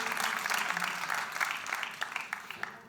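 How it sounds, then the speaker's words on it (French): An audience at an entrepreneurship fair claps together, a fairly soft, dense patter of many hands lasting a few seconds and thinning toward the end. "Applaudissez-les aussi"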